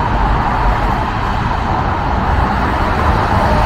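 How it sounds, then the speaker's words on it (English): Steady, loud road noise from cars passing at speed, a continuous tire-on-pavement roar with no distinct gaps or voices. "When cars get to speeds over 25 miles per hour, the loudest noise that cars make besides their horns is from moving from friction with the road."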